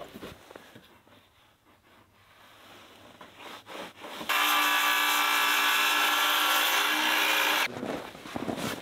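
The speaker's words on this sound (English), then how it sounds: "I'm going to set this saw about 1/16 of an inch. And let's give it a try here." A power saw set to cut about 1/16 inch deep scores the back side of a board at an off-grid Alaskan cabin. After some quiet handling, a loud, steady cutting whine runs for about three seconds and then stops.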